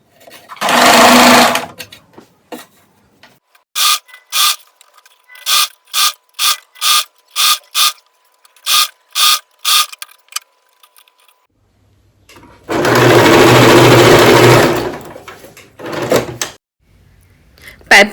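Sewing machine stitching piping onto a women's suit runs in loud bursts, with a long run, a string of short rhythmic stitching pulses, then another long run, while someone talks between them.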